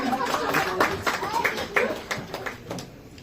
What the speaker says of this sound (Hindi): जोरदार तालियों के साथ स्वागत कर रहे हैं रेनू मैम का